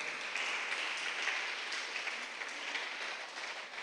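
Church congregation clapping together in praise during a sermon, a thick, even roar of hands that carries on throughout, fairly distant and without speech.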